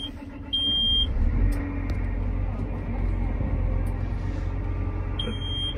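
A John Deere 7R330 tractor's engine starting and settling into a steady low idle, with a low-air warning beep at the start and again near the end.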